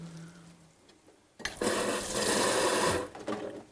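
Water being squeezed and pressed out of salted radish for Korean dongchimi, a loud sustained wet squelching and dripping rush after a quiet start, lasting about a second and a half before easing.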